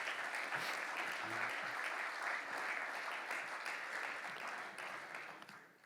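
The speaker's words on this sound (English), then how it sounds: "Let's give them a big round of applause" Applause from an audience at a community annual meeting, a steady wash of clapping that holds for several seconds and then thins out toward the end.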